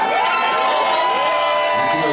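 A concert crowd in Geneva cheers loudly at a show, a dense, continuous roar of shouts and whoops with some clapping, close and unbroken throughout.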